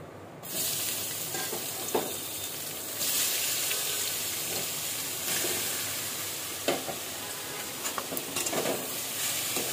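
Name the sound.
vegetables added to pan with sautéed mushrooms, frying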